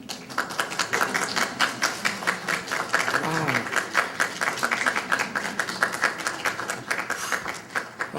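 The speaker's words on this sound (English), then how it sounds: "look around and applaud them" Audience at a 2018 St. Ambrose Academy commencement breaks into sustained applause, a thick rhythmic clatter of many hands lasting several seconds, with a voice briefly exclaiming over it.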